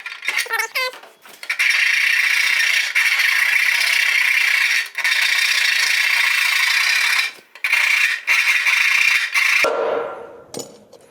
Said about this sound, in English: it's pretty close, but it's gonna rub, so we're gonna have to file that out a little bit more